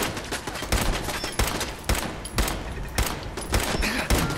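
Sustained gunfire in the video game Fallout 4, a dense, loud barrage of rapid shots cracking continuously with no pauses.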